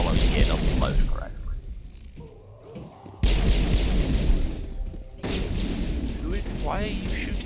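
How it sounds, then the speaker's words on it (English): Heavy gunfire from the Mass Effect video game comes in bursts of booming, crackling shots, broken by a quieter pause before the volley resumes, with voices and game sound mixed in. "Why are you shooting me?"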